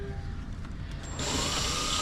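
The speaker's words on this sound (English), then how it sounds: "You just gotta drill it out a little bit and always be careful." A power drill bores out holes on a Foxbody Mustang, a steady whirring hum that jumps into a louder, harsher grinding pitch partway through as the bit bites.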